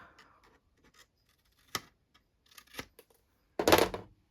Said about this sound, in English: you got to cut off the corners